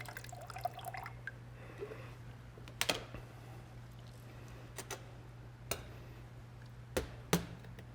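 Clear water left after SpillFix granules soak up transmission fluid trickles out in a few sparse, faint drips and taps against a quiet background hum.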